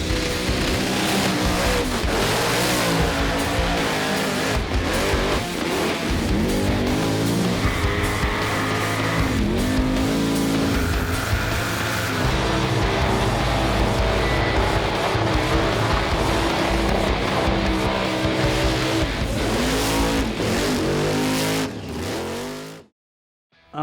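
A supercharged, injected 377 cubic-inch small-block Chevrolet V8 of roughly 1,000 horsepower in a VK wagon race car roars loudly, revving hard with squealing tires, sustained for over twenty seconds before cutting off abruptly.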